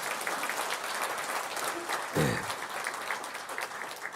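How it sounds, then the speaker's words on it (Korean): Church congregation applauding a visiting pastor from New Jersey, steady clapping filling the room with a brief deeper voice or sound rising in the middle. "박수 한번 해주시기 바랍니다."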